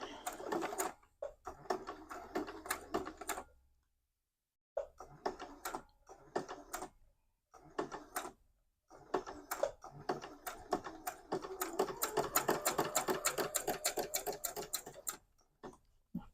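Domestic sewing machine stitching a quilt block, rapid mechanical ticking bursts in stops and starts, with short pauses between runs and a longer continuous stretch near the end.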